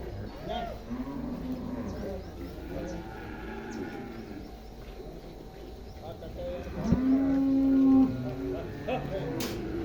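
A Friesian-Jersey cross dairy cow lets out one long, loud, steady moo nearby during milking, preceded by people talking and other livestock sounds in the background.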